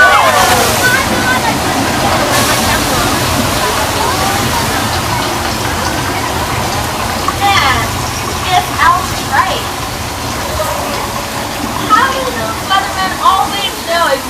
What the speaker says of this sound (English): That flash flood was created by thousands of gallons of water that are released at the top of the hill.